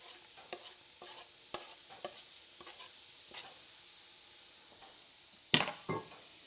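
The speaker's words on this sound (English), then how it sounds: "slide those chopped onions right in there" Chopped onions sizzle in a pan at a soft, steady level, broken by scattered light scrapes and taps from stirring and a sharper clatter near the end, with nobody talking.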